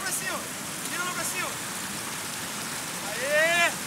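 Rain patters steadily on a wet mountain trail leading toward Pico da Bandeira, a soft continuous hiss with faint bird chirps and muffled voices in the background.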